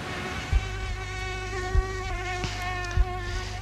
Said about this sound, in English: That is the sound of a female mosquito.